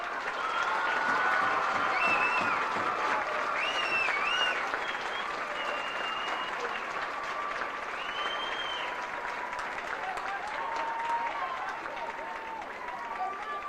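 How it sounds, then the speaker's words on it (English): Audience applause fills a high school football awards ceremony from 1993, a steady sustained clapping from a large crowd with scattered voices and calls mixed in throughout. "A round of applause for them."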